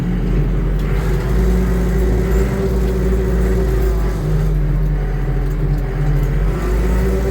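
A tractor pulling a fertilizer spreader with its power take-off running moves off in first gear across a field, a loud, steady, close engine drone with a deep low rumble throughout.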